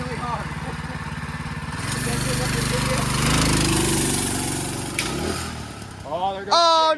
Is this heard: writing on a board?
no